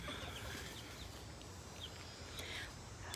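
Faint chicken clucks and soft bird calls rise over a steady background hiss, distant and low in level.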